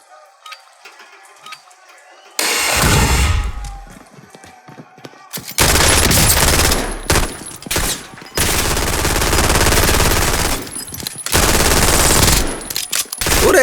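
Loud bursts of automatic gunfire in Call of Duty Warzone, several sustained volleys separated by short pauses, close and dominant, with game sounds and a voice faintly underneath.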